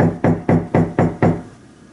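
Six firm, evenly spaced knocks on a door, close and loud, each with a short resonant decay, with no voices.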